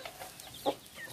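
A domestic hen gives a single short cluck at close range over faint ambient background, with a few softer bird chirps around it.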